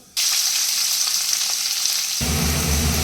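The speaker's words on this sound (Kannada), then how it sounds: "ಚೆನ್ನಾಗಿ ಫ್ರೈ ಆಗ್ತಾ ಇದೆ" Onion and green chilli frying in oil with mustard seeds and dals, a loud close hiss that starts abruptly and holds steady, growing fuller near the end.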